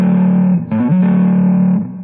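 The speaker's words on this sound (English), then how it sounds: "As soon as you kick on the distortion" A heavily distorted electric guitar sustains a thick, buzzing note, briefly bending in pitch before settling back, loud and close.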